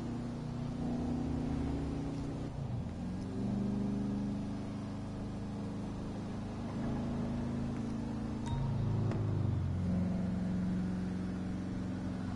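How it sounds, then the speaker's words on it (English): A slow car's engine drones steadily inside the cabin, a low continuous hum with gentle rises and dips in pitch as it drives, with no talking. "This car's slow as hell though."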